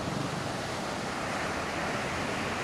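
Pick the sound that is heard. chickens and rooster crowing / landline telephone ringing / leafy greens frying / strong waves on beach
strong waves on beach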